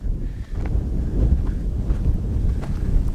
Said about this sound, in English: Hopefully you can hear me because it's really windy out